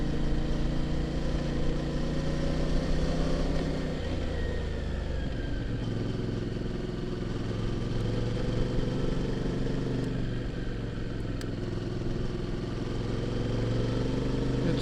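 A CF Moto motorcycle engine pulls away in third gear on a forest road, giving a steady, continuous drone with a gently shifting pitch.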